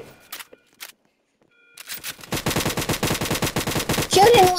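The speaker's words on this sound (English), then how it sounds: "Shooting random people in Brookhaven" Rapid automatic gunfire in the Roblox game Brookhaven, a few scattered shots then a dense, fast burst of loud repeated reports, with a brief voice near the start.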